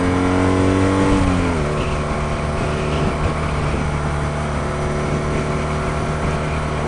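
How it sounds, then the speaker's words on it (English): A 2016 BMW R nineT motorcycle revving around 4,800 RPM, its exhaust note rising in pitch, then settling into a steady, loud drone as it pulls along the road. "That exhaust note right there is just sweet."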